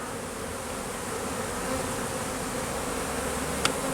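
A honeybee swarm buzzing around a hive outdoors, a steady, dense hum of many wings filling the air, close and continuous with one brief sharp tick near the end.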